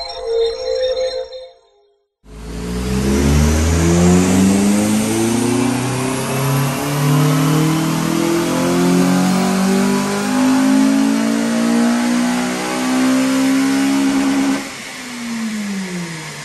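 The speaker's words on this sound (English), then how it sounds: "I'm going to do a standard power run, see what she puts out" A Honda Civic FN2 Type R runs flat out on a dyno during a power run. The engine note climbs steadily in a loud, continuous rev for about twelve seconds, then drops off sharply, with a brief burst of other noise before it.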